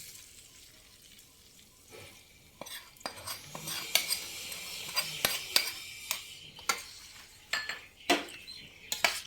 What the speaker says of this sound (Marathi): आणि असं वरखाली ढवळून घ्यायचं आहे